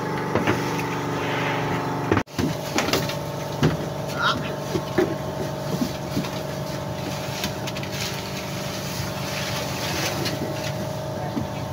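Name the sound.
small boat approaching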